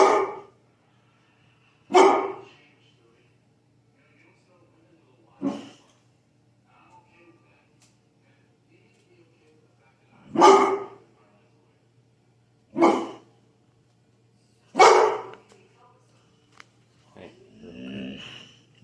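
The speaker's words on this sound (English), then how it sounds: "It's more of like that under his breath type barking" A young bullmastiff gives low, muffled under-the-breath barks, single gruff woofs spaced a few seconds apart and fairly close, with a quieter grumbling sound at the end.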